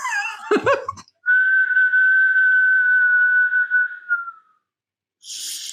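A person whistles one steady, sustained note for about three seconds, after a brief burst of giggling or breathy vocal sounds.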